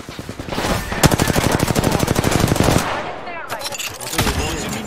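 Rapid automatic gunfire from a video game rattles loud and close in a long sustained burst, then breaks off into scattered shots and clatter as a voice speaks beneath it.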